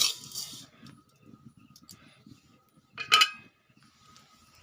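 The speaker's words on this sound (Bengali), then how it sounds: "এটা আমি নাড়তে থাকবো, নাহলে নিচে লেগে যেতে পারে।" A utensil scrapes and clinks against a pot as vermicelli pudding is stirred. There are a few short metallic scrapes and a sharper clink, spaced out over quiet background, with no speech.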